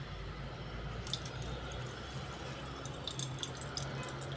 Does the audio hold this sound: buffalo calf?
no